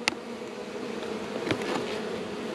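Honey bees buzz steadily around an open hive while frames are lifted and moved, a dense close drone with a few soft knocks and scrapes of wood.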